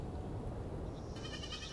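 Goats bleat in the Land of the Vikings video game, soft and somewhat distant over a steady low background, with a faint higher-pitched bleat near the end.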